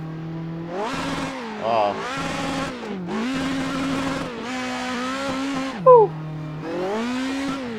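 An engine-swapped Toyota 86 / Subaru BRZ revs hard up to a high rev limiter, repeated loud wailing pulls that climb and bounce off the limiter between short pauses, with brief exclamations from someone inside.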